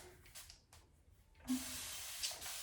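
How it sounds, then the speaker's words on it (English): A short burst of water spray hisses from a bottle nearby onto hair, a steady misting whoosh lasting about a second after quiet rustling. "I'm gonna take this water, just spray it all around."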